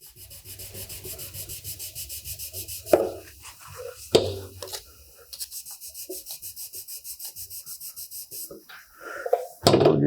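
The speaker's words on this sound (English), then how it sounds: "We'll just sand this until there's no more shiny spot there." A freshly painted motorcycle tank is hand-sanded to remove orange peel, with a close, rhythmic back-and-forth rasping of even strokes, broken by a few pauses and handling knocks.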